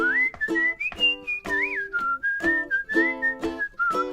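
A clear, melodic whistled tune over rhythmic accompaniment, with notes gliding up and down in a steady, song-like pattern.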